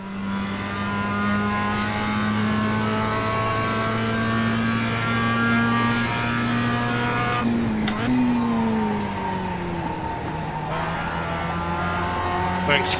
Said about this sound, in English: audio lap at Okayama in the Mazda MX-5